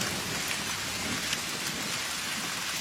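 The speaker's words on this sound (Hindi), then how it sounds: "इसमें नहाकर बहुत अच्छा लग रहा है, और मैं इस बारिश का भरपूर फायदा उठाना चाहता हूँ।" Heavy rain pours steadily outdoors in the wild, a dense, continuous loud hiss with no letup, close and enveloping, with no voices heard.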